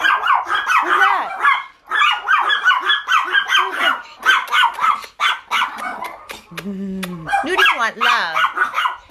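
A dog lets out a short bark and whiny yips, mostly close by and brief, while a person talks steadily over and around it.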